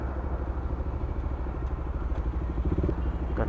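BMW GS 1250 motorcycle engine close by during a group breakfast ride in Bulacan, a steady rhythmic mid-pitched thrum with light mechanical clatter, no talking over it.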